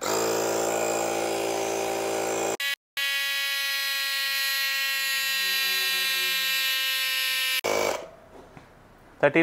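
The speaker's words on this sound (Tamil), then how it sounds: "இப்போ இதை இன்ஃப்ளேட் பண்ணி காட்டுறேன் உங்களுக்கு." A cordless tyre inflator for car, bike and truck runs with a loud, steady, buzzing electric-motor drone, briefly cutting out once, then stopping near the end, leaving quiet handling sounds.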